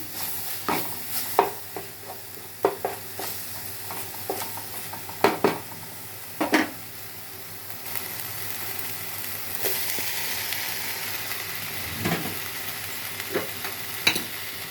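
Turmeric and ginger-garlic paste fry in a pan. A spoon scrapes and knocks against the pan in bursts, and a steady sizzle runs beneath.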